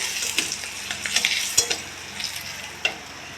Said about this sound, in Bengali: দেখুন চিংড়িটা কতটা ভাজা হলো